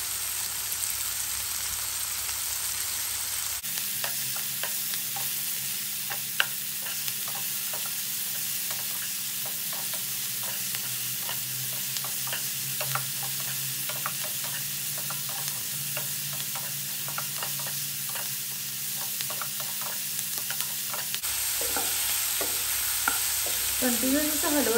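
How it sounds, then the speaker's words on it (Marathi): Chopped onions frying in a pan with hot oil for a Maharashtrian capsicum dish, a steady close sizzle broken by repeated scraping clicks of a spoon stirring, with quieter stretches at the start and end. "कंटिन्यू असं हलवत राहायचं जेणेकरून कांदा जो आहे तो करपला नाही पाहिजे"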